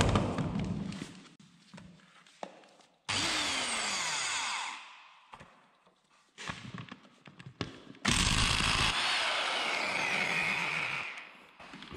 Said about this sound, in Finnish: kokeillaanpa tällä töpselipulttipyssyllä tuo viimeinen irrottaa